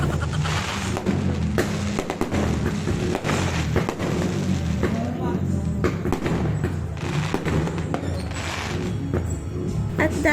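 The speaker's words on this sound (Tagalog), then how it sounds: "Around 10:45, may mga nagpa-fireworks na nga." New Year's fireworks crackle and thump continuously, a dense barrage of bangs and pops filling the air at close to moderate distance, with faint voices mixed in.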